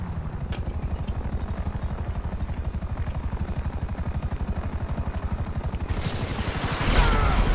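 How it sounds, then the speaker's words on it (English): A helicopter in the video game GTA 5 runs loud and steady with a rapid rhythmic rotor chop throughout, swelling louder near the end. "Chopper."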